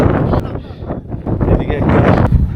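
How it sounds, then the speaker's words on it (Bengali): Strong gusty wind at a high mountain pass around 16,580 feet between Zanskar and Lahaul, buffeting the microphone in loud, uneven roaring bursts with a voice partly heard. "প্রচন্ড হাওয়া বইছে"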